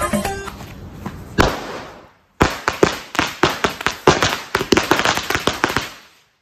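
A 100 wala string of Diwali firecrackers goes off outdoors: an early single crack, a brief silence, then a rapid, uneven chain of loud sharp bangs lasting several seconds.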